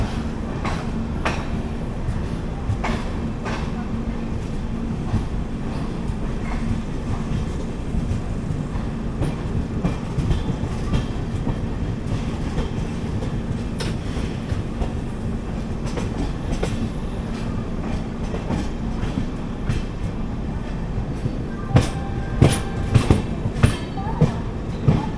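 Steady rumble and rhythmic clickety-clack of the 22616 Intercity Express with new LHB coaches running on rails, heard from inside an AC chair car, continuous and close with faint voices in the background.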